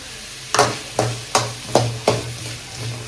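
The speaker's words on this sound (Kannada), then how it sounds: "ಸೊ ನೆಕ್ಸ್ಟ್ ನಾನು ಇದಕ್ಕೆ ಆನಿಯನ್ ಹಾಕೊಂತಿದ್ದೀನಿ." Onion goes into a pan while the filling for momos fries, with five sharp stirring or scraping strikes at a steady pace over a low, continuous sizzle, close and fairly loud.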